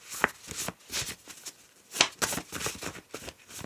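Cards being shuffled in quick riffling bursts, with sharp flicks and soft shuffling in between, close to the microphone with no talking.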